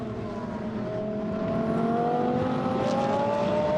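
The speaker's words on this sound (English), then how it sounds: "you can hear the engines cackling away as they try to lay down the power from these fantastic GT3 spec cars" GT3-spec race cars at a Blancpain Sprint Series qualifying race at Nogaro roar steadily as their engines accelerate, a dense, continuous rising engine note with whirring pitch climbing over the track noise and no commentary heard.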